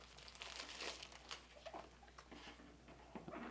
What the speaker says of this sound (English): So we'll start off by peeling off the wrapping.